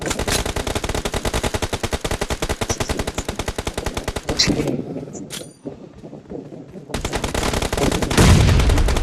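Heavy automatic gunfire in a shooting video game, a long rapid stream of shots, a brief quieter pause with a few scattered sounds, then the sustained fire resumes at full loudness.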